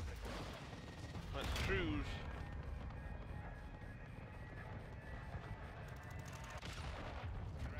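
Called-in fire strike in Call of Duty: Modern Warfare 2, with explosions and gunfire rumbling continuously through the scene, a louder burst near the start, while someone talks over the battle noise.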